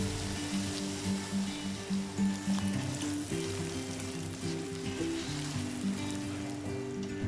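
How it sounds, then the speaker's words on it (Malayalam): Masala for Manjali biryani is sautéed with salt in a pan, making a soft, steady sizzle and frying crackle with a gentle background melody. There is no talking. "ഇനി ഈ ഒരു ടൈമിൽ ആവശ്യത്തിനുള്ള ഉപ്പ് ചേർത്ത് നന്നായി വഴറ്റി കൊടുക്കാം."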